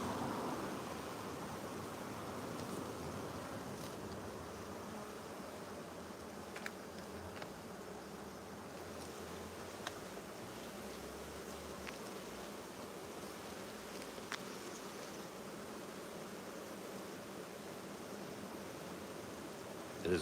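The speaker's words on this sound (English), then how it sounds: "There's a lot of bees." Honey bees swarm around an open hive, making a continuous faint, even buzz with a few soft ticks and rustles scattered through it.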